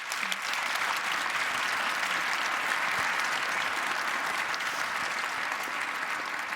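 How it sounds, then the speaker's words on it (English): A live audience at a televised Warsaw debate on the Ukraine crisis gives the panel a warm round of applause, dense continuous clapping sustained throughout. "So my audience here, please give my panel a very warm round of applause."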